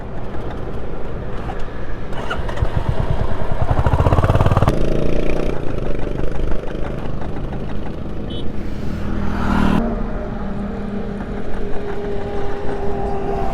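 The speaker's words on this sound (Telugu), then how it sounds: "బండి స్టార్ట్ అవ్వట్లేదు అసలు." A motorcycle on a road trip from Hyderabad to Mahabaleshwar failing to start, engine turning and sputtering in uneven bursts with a louder surge midway, heard close and continuous for the whole stretch.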